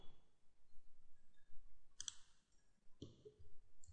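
A computer keyboard's Shift key pressed during 3D modelling in Blender, giving two or three sharp, quiet clicks spaced about a second apart against near silence.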